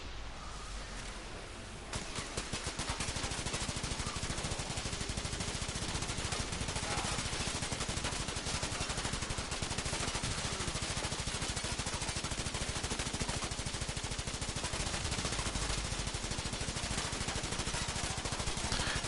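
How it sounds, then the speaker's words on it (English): Rapid, unbroken automatic weapon fire from the Aximati Prime in the video game Warframe, a dense rattling stream of shots running loud and steady for the whole stretch after a brief quieter opening. "99 seconds of straight firing?"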